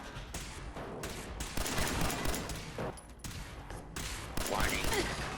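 Enemy gunfire in Fallout 4: dense, rapid bursts of shots rattle almost continuously, fairly loud and close, with speech intermittently over the firing.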